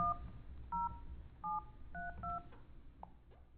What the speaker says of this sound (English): if you need to make an outgoing call, you can dial right from here